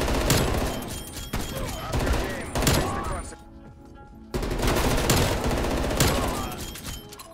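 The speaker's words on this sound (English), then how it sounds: "This gun kind of shreds hip firing." Rapid automatic gunfire from the FFAR assault rifle in Call of Duty, hip-fired in loud sustained bursts with a brief pause in the middle, then another long burst; no talking.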